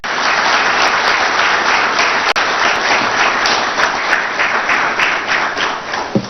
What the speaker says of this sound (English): So please, a big round of applause for all foreign investors.